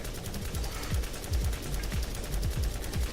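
Rapid-fire shooting from a high-rate weapon in the video game Borderlands, a dense run of sharp, punchy shots in quick succession, loud and continuous over about three seconds with no speech.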